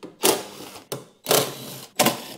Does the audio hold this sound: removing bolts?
yes